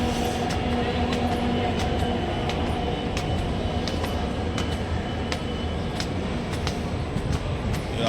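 A Delhi metro train rumbles and clatters steadily at a station, with rhythmic wheel clicks and faint squeals, loud and close throughout with no voices.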